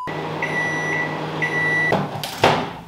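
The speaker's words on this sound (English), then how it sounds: "I'm gonna put it in the microwave for like 10 seconds." A microwave oven hums steadily while heating a chocolate waffle, beeps come at intervals, then the door clicks open and thumps loudly near the end, with no talk.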